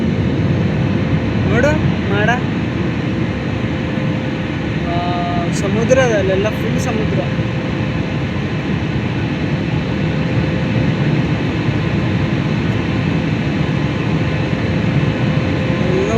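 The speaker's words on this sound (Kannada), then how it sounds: "so flight ಇವಾಗಿರೋದು ಅಪ್ವರ್ಡಲ್ಲಿ" Airliner cabin on a flight from Benin to Gabon, climbing after takeoff: a steady, broad engine roar fills the cabin throughout, with someone talking over it and a few faint tonal chimes.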